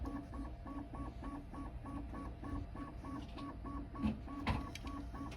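A Bambu Lab P1S 3D printer lowers its bed, its stepper motors giving a steady, regular pulsing whine with a couple of faint mechanical clunks toward the end, heard up close with no talking.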